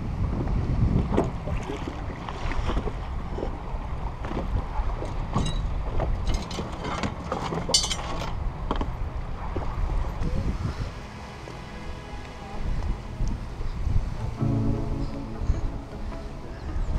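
A small dinghy crosses open water near Desoto State Park in Florida after strong winds. There is a continuous rushing wash of water and motor with gusts of wind noise buffeting the microphone throughout.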